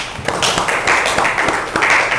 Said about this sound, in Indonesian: Tepuk tangan dong, Bu Ayla.